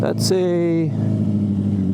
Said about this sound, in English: Oh, is that a Mustang?